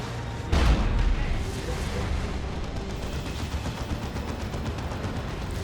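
Demolisher Cannon fire in the real-time strategy game Dawn of War II: Retribution, a heavy boom near the start followed by a continuous rumble of battle gunfire and explosions.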